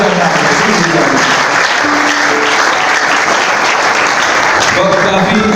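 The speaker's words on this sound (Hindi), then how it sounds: "बुजुर्गों के लिए भी एक तालियां बजा दीजिए जोरदार।" Loud, sustained applause from a church congregation fills the whole stretch, a dense steady clatter of clapping hands with crowd murmur underneath.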